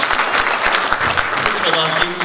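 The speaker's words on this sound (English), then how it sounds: "let's give a big round of applause" An audience at a Star Wars Celebration press conference claps enthusiastically, a dense burst of applause with a voice speaking over it near the end.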